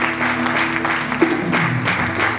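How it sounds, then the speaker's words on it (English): A church congregation claps along at a Christian education congress, with loud, fairly steady clapping and some tonal music or organ sustained underneath, with no clear speech. "Come on, give God a hand clap."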